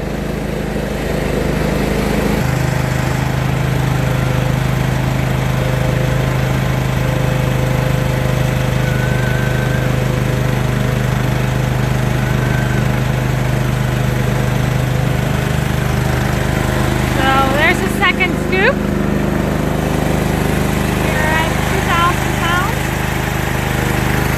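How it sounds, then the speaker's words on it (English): Farm motors and engines run continuously at close range during morning cattle feeding chores, a loud steady drone with a few high squeaks partway through. "you might be hard to hear me over the motors and the engines"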